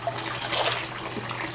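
Water splashing and sloshing in a sink as a small boy is bathed after a beach trip, a steady close watery wash with scattered splashes and a low hum underneath, no voices.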